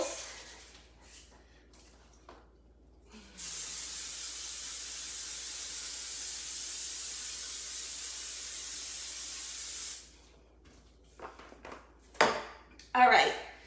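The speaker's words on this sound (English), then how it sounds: "I'm gonna spray my pan that I'm using for my bagels." Cooking spray hissing onto a bagel pan in one continuous, even burst of about seven seconds, with someone talking briefly before it and light kitchen clatter after.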